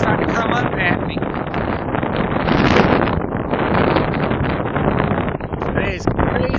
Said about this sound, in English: It is crazy ass windy out here.